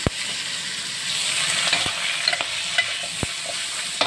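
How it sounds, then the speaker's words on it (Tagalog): Cabbage being stir-fried with sautéed salty meat: a steady, close hiss of sizzling oil broken by a few sharp clacks of a utensil against the pan, with no talking. "Tapos ayan yung repolyo na ilalaw ko doon sa ginitang karne."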